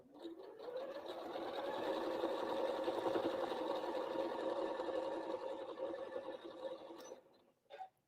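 A sewing machine runs steadily while piecing a Christmas Star quilt block, a continuous close hum lasting about seven seconds before stopping, followed by a brief handling noise.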